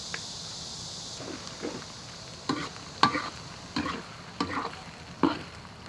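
Beef stir-fried with chili bean paste in a wok, a steady sizzle broken by six or seven sharp scraping stirs of the spatula at irregular intervals, close and moderately loud with no talking.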